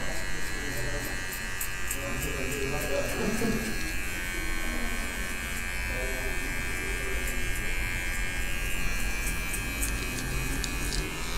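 An electric hair clipper fitted with a number one guard buzzes steadily and close while cutting hair in a barbershop high fade, its constant drone continuing throughout as someone talks over it.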